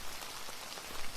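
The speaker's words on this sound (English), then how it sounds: "The rain continues." Steady rain patters on canvas tents in a Civil War camp, a dense, even hiss of drops close by with no voices.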